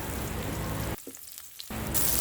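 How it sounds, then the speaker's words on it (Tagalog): Ginger and garlic sauté in hot cooking oil with a close, dense sizzle that drops away briefly in the middle, then resumes just as strong. "Ginisa ko muna yung luya sa mantika. And then, sinunod ko yung bawang."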